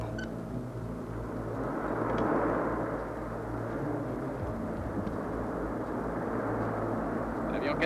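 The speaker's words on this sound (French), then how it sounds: "L'avion 417 a atterri." An airplane lands at an airfield, a deep, continuous engine roar that swells slightly near the middle and then holds steady, loud and enveloping throughout.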